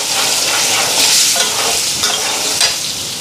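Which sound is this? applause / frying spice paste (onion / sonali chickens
frying spice paste (onion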